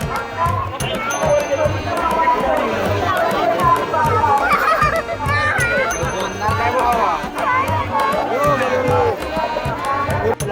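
Dense crowd hubbub at the night fair of Shri Bharadi Devi at Anganewadi in Konkan, a steady babble of many voices with footsteps and movement, loud and continuous throughout.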